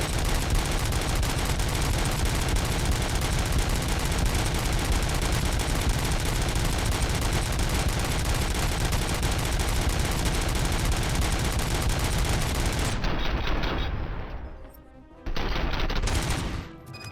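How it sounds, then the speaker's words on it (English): Sustained rapid pistol gunfire from RoboCop's sidearm in the video game RoboCop: Rogue City, a loud dense barrage running nearly unbroken for about thirteen seconds, then cutting out briefly before a short final burst. "RoboCop pistol goes"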